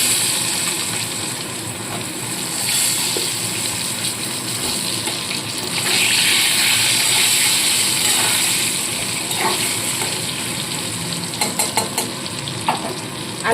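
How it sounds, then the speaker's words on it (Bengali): Potatoes and eggplant fry in hot oil with turmeric and salt in a pan, a steady dense sizzle running throughout, with occasional louder surges and light scrapes and clinks as the pieces are turned. "দিয়ে আলু আর বেগুনগুলোকেও এক এক করে ভেজে তুলে নেব"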